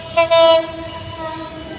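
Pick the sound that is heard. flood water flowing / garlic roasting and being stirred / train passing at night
train passing at night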